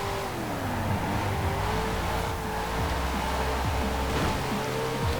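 Racing game car engine in Forza Horizon 4, sharing the Charger's V8 but with different gearing and a much lighter body, pulls hard through rising gears with steady loud engine tone and tyre roar throughout, no talk.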